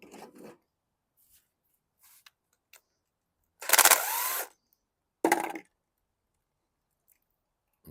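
An impact wrench works the drain on a WildFire WF1200 2-cycle generator: a loud, harsh burst of under a second, a shorter rattling burst a second later, then near silence with faint clicks.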